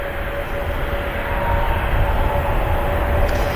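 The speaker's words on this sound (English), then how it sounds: "Nice touchdown from the 321neo of Air Transat in from Toronto." An Air Transat Airbus A321neo landing and rolling out on the runway at Manchester Airport, a loud, steady roar of engines and rushing air, with no talk.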